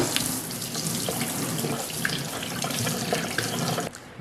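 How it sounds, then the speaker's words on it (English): Hot water runs steadily from a sink tap in a continuous splashing stream, close by, while cleaning a cast iron skillet, with a few small clinks before the flow cuts off near the end. "you're going to turn the hot water on in the sink"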